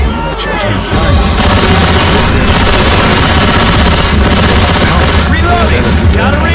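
Dense, loud video game gunfire roars almost nonstop, with rapid automatic bursts and booming blasts layered over a constant battle din.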